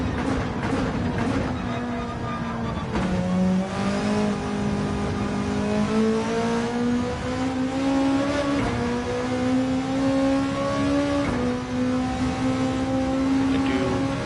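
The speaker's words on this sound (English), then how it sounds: "This Beetle's such a good car. It's the Swiss Army knife of Group 3." A Volkswagen Beetle Group 3 race car in a racing video game at Road Atlanta, its engine droning steadily and rising in pitch through the gears, loud and continuous with a brief shift dip.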